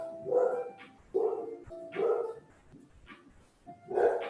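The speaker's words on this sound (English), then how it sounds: "It's my dog barking." A dog barks indoors in four loud, separate woofs spaced about a second apart, with quiet gaps between them and no talking.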